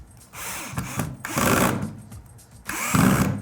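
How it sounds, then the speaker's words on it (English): A power drill runs in several short bursts into pallet wood at a 45-degree angle, the motor revving up and easing off between pushes as it bores in. "drill that at a 45-degree angle as well."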